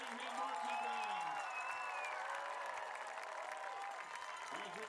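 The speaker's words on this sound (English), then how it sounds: "let's give a big round of applause to Bridgewater Rainham Marching Band" Crowd applause and cheering at a Thanksgiving high school football game between Brockton and Bridgewater-Raynham, greeting a marching band. The sustained, fairly faint clapping runs throughout, mixed with crowd noise and tonal sounds.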